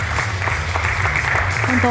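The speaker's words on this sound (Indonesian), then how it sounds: "kita berikan tepuk tangan yang meriah sekali lagi" Audience applause at the close of a televised Islamic economy discussion programme, a steady broad wash heard alongside a brief spoken word.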